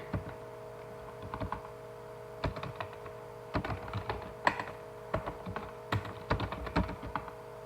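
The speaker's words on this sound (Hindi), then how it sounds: "चलिए सबसे पहले हम यहाँ पे टाइप कर लेंगे अटेंडेंस शीट।" Keys clack on a computer keyboard while a spreadsheet is typed up, bursts of quick close taps with short pauses over a faint steady electrical hum.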